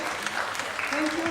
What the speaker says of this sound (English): We clap for our panelists as well as our moderators.